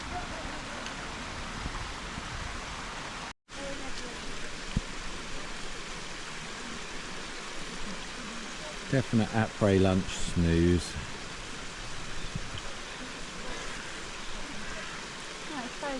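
A river running past a bear's enclosure at a bear and wolf sanctuary in Germany's Black Forest, a steady rushing flow throughout, with someone speaking briefly over it.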